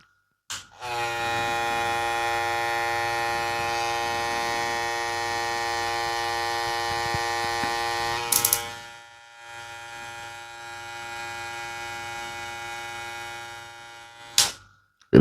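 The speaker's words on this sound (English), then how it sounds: "it's a detachable hair clipper" A brushless electric hair clipper runs close and steady with a constant buzzing hum, briefly stops, then starts again at a slightly lower level before clicking off; no one talks.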